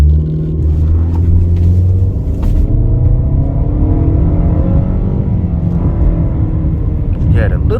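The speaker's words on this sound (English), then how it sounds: "a little bit of wheel spin, just a tiny bit" A 2020 Nissan Rogue SV AWD pulls away with a loud, close engine drone and rising rumble as it gains speed, a brief wheel spin lost in the steady road noise.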